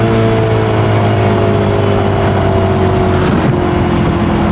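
A Maserati engine revs loud and steady through a downshift, a continuous close-up drone with a brief surge and pitch change partway through; no talking.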